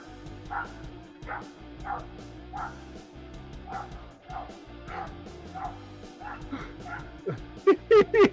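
A dog barks and yips in short, repeated bursts at a dock, with a louder cluster of sharp barks near the end, over background voices and ambient noise.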